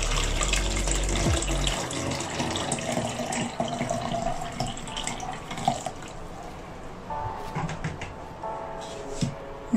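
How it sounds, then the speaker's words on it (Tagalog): Lukewarm water, about 400 ml, runs from a tap into a measuring cup for gluten-free bread dough, a steady splashing stream that fades toward the end into scattered drips and light handling clatter. "Maglalagay po tayo ng 400 ml na water, lukewarm water, dito sa measuring cup natin."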